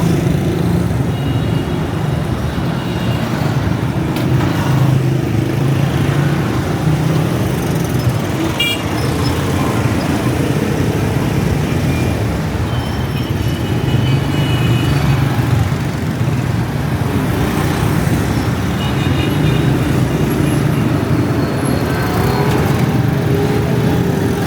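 Heavy, chaotic road traffic on a Multan street in the evening: a steady dense roar of engines, with motorbike and car sounds and occasional horn toots throughout, loud and continuous.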